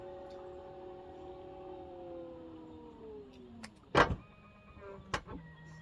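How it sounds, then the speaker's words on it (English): A 2025 GMC Yukon Denali powered tailgate closing: a steady motor whine that slowly drops in pitch, then a solid latch thud and a couple of clicks. "You can also close the boot, open the boot"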